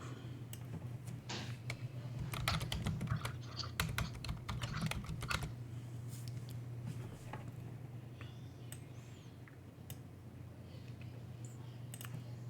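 Keys clatter on a computer keyboard in bursts of quick taps, close and fairly quiet, busiest early on and thinning to occasional clicks, over a steady low electrical hum with no talking.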